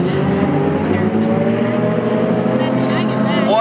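Hornet class race cars roar around a Minnesota speedway oval in a dense, continuous engine drone, with a commentator's voice talking over the steady racing noise.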